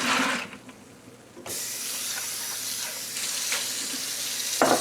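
Soaking water drains off pinto beans into a sink, a steady close rush of pouring water that briefly drops and then runs on continuously, with no voices.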